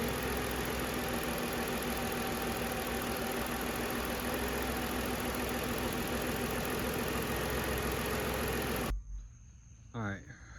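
Ford Explorer engine idling after a water pump replacement, a loud steady close hum and rattle that cuts off abruptly near the end, followed by quiet and a man's brief speech.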